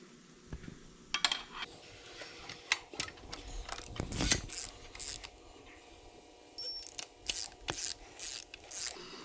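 A 7/16 socket wrench torquing bolts during a diesel engine build: scattered metallic clicks and ratcheting ticks with clanks of tools, including a louder bunched rattle midway and a quick series of sharp clicks near the end, no speech.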